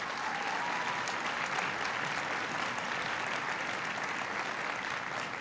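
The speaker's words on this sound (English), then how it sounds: "Please give him a big round of applause." A press conference audience breaks into sustained applause, dense and even, with the clapping holding steady throughout.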